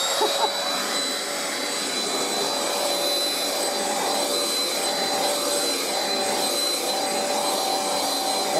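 A Princess Turbo Tiger handheld vacuum cleaner runs with a steady loud motor whine and airy rush, holding an even tone throughout with no talking.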